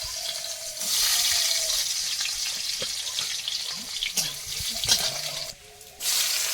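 Chopped garlic sizzles in hot oil in two pans on an open outdoor fire, a steady loud frying hiss with a few clinks and scrapes, briefly dropping away near the end.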